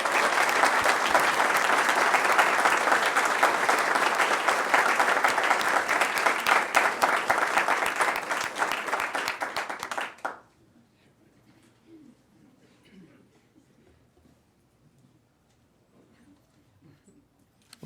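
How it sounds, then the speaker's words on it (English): Audience at a school board meeting applauds students with steady, dense clapping for about ten seconds before it stops abruptly, leaving a quiet room with faint background sounds. "We could give all of these students a round of applause."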